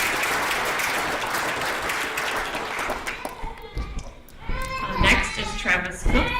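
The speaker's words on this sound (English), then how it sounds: "please give him a round of applause" Audience applause at a university physician assistant program hooding ceremony fills the room at first, then fades into scattered claps and sparse sounds.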